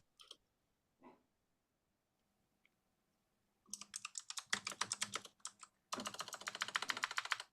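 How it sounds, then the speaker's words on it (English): Typing on a computer keyboard during a live online group call, a few isolated clicks at first, then rapid continuous key clatter in two close bursts. "typing is so loud on that"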